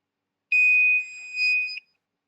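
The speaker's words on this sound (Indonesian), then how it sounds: "lampu akan bernyala merah dan membunyikan buzzer untuk peringatan bel." An air quality monitor's buzzer sounds a single steady electronic warning tone lasting just over a second, clear and alone, dipping slightly in the middle before cutting off.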